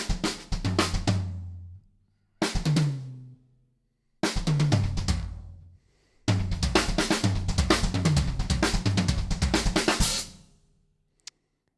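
A drum kit plays choppy fills of paradiddles moving around the toms and snare with bass drum, in four bursts separated by silences, the last burst longer and sustained before a final short hit, close and loud.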